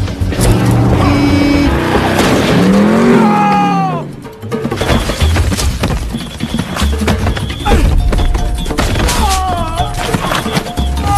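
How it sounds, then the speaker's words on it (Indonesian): A car skids with a rising screech and then crashes down into a ravine with heavy thuds and clatter, all loud and mixed with other film sounds. "mobil yang mereka kendarai terperosok ke dalam jurang"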